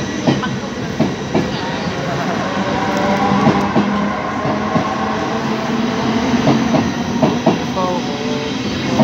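A train at Assen station in the Netherlands rumbles steadily, with continuous rolling noise and repeated clicking and clattering of wheels over the rails.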